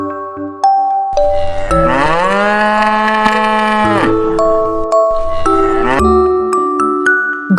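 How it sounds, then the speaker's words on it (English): A cow lets out one long, loud, drawn-out moo lasting a few seconds, set against bright chiming music notes before and after. "This is a cow."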